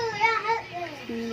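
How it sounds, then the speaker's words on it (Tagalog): Noisy children playing near a house, their high voices chattering and calling out close by in a short, busy burst. "So, medyo maingay na yung mga bata rito, mga batang pasaway ito eh."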